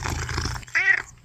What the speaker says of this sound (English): You think you're cute by purring and talking to me